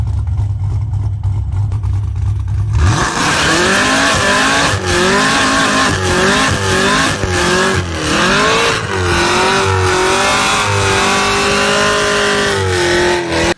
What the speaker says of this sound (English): Yes, this car, the one known for sounding like this,